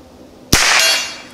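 A Browning BL-22 Micro lever-action rifle fires a single Armscor .22 short round at a 50-yard target: one sharp, fairly loud crack with a brief ringing tail, after a quiet outdoor lull.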